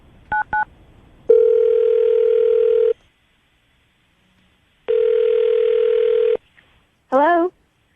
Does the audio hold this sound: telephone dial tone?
yes